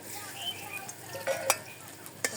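Chopped garlic and onion go into hot oil for tempering greens, giving a soft sizzle with a few utensil clinks and scraping stirs, heard close and fairly quiet.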